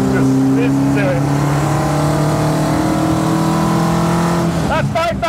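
The engine of a 1972 BMW 2002 race car, a car that has raced at Goodwood, is heard close up and loud as it revs. It holds a high, steady droning note, then drops away at the end.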